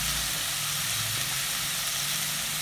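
Steady, loud hiss of curry leaves and onions frying in hot oil in a pan while duck gravy is being cooked, a continuous close sizzle with no pauses.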